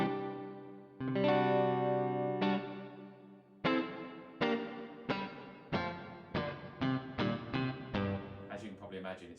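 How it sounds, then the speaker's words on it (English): Strummed electric guitar chords ring out with heavy reverb from a Tech 21 FLY Rig RK5 set to full, each chord trailing into a long, washy tail as if played in a cavernous hall. "So if I crank this reverb up a little bit, we can hear where it will get to."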